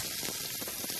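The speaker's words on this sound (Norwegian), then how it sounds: "Vi legger biffene i, og steker dem 1-2 minutter på god varme" Beef steaks fry in a hot pan with flavorless high-heat oil, giving a loud, dense, continuous sizzle that crackles evenly throughout.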